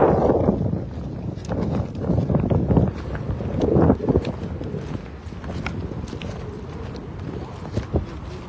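Wind blowing across a fishing boat at sea, a rough, gusty rush of microphone buffeting with occasional knocks and clatter on deck, loud and close, with no clear talk.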